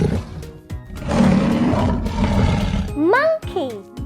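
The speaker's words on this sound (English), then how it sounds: "Tiger, tiger, Wow! tiger." A tiger roars loudly and close up over a steady musical backing, with a voice and other voices speaking around it.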